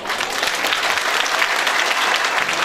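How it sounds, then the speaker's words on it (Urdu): A crowd of parents and guests applauds at a school's annual prize distribution ceremony, producing a full, steady burst of clapping that stays loud and even throughout. "اور میری طرف سے ذرا زوردار تالیاں بجا دیں اسکول انتظامیہ میں"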